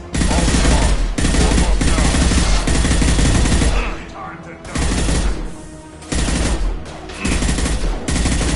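Heavy automatic gunfire from Mass Effect 2 combat, loud and close, with long sustained bursts broken by brief lulls and voices shouting over it.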